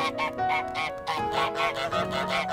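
Geese honking in Untitled Goose Game, a run of loud, close, nasal honks repeated in quick rhythmic succession.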